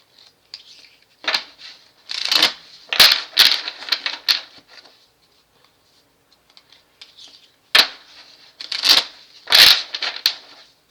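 Tarot cards being handled and shuffled, crisp papery riffles and flicks in short bursts separated by quiet pauses, close to the listener with no talking.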